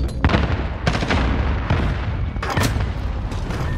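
Grenade blasts in Call of Duty: Modern Warfare multiplayer, several loud booming detonations landing in quick succession about a second apart, each with a sharp crack and rumbling tail over a constant dense battle din.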